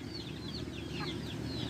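Backyard chickens kept by a small-scale breeder cluck and call in a cramped yard, soft scattered fowl sounds over a steady low background hum, fairly faint and with no talking.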